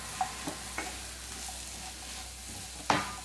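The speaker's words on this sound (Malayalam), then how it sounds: "ഇനിയിപ്പോൾ ഇതെല്ലാം കൂടി നന്നായിട്ടൊന്ന് ഇതുപോലെ ഒന്ന് മിക്സ് ചെയ്ത് കൊടുക്കാം" Chilli, pepper and coriander powders are stirred in a pan of soya chunks and egg, with a low sizzle underneath and a few distinct spatula scrapes and taps, the sharpest one near the end.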